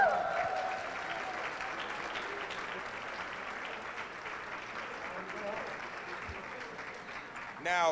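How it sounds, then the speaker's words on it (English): A conference audience gives a mayor another round of applause, sustained clapping at a steady level that fades slightly before a short burst of sound at the very end. "Give him another round of applause,"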